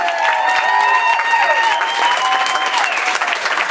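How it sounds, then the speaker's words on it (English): Loud, close applause from wedding guests for the best man at a reception, with faint cheering and a few voices woven through the steady clapping. "A big round of applause for our best man, Toby Phillips, ladies and gentlemen."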